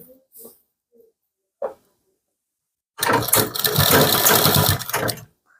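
A sewing machine stitches the side seam of a kurti in one steady, loud mechanical run of about two and a half seconds, preceded by a few faint isolated clicks and handling taps.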